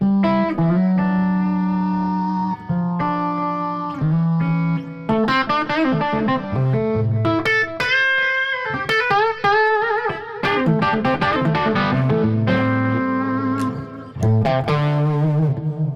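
Overdriven electric guitar through a boost drive pedal and high-powered Twin amps, playing chords and melodic lines, thick and sustained with distortion, loud and continuous with no talking.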